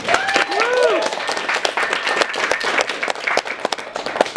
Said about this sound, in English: Applause for Mackem, ladies and gentlemen.